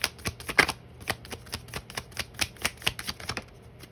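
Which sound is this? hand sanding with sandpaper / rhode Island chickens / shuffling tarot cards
shuffling tarot cards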